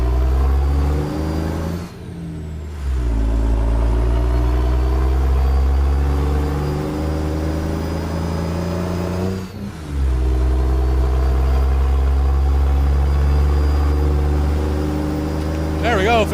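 Heavy truck in American Truck Simulator pulling back onto a highway, its deep engine drone climbing in pitch between two gear changes with short dips in power, loud and steady throughout, with a voice briefly heard at the end.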